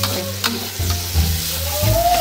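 Tomato frying in a pan, a low sizzle with stirring and scraping knocks, heard close up with no talking.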